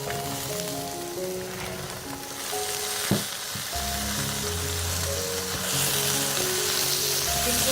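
Flat beans and potatoes fry in hot oil, a steady close sizzle with occasional stirring clatter and a sharp knock near the middle, no voices.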